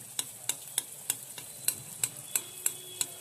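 Anarse, a sweet Maharashtrian snack, frying gently in oil over a low gas flame: soft steady sizzle with regular light crackles and pops about every third of a second, fairly quiet and close, no voices.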